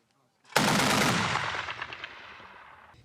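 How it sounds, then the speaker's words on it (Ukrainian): Heavy machine gun mounted on an armored personnel carrier fires during a cadet training exercise at a range: a sudden loud, dense burst of gunfire that rolls on and slowly decays with echoing reports across the field. "стріляючи з великокаліберного кулемета, встановленого на БТРі"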